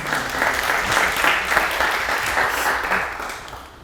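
Audience applause at a sales masterclass, a dense, steady wash of many hands clapping that stays loud throughout and tapers slightly at the end, with no talk over it.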